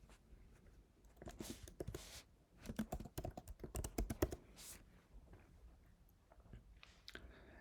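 Computer keyboard typing during project setup in a web app: bursts of quick, close clicking keystrokes with short pauses in between, fairly quiet and without any talking.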